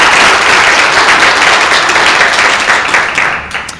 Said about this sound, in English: Please give me a round of applause for everybody.